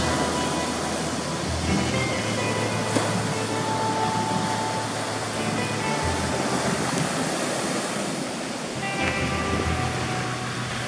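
Waves breaking along the Sea of Japan shore at evening surf, a continuous broad wash of surf with swells rising and falling, moderately distant.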